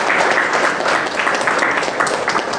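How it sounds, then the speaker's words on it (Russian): Audience applause at the opening of a Kaizen center in Almaty, a dense, steady wash of many hands clapping together, fairly loud and continuous throughout, with no voices over it. "давайте похлопаем"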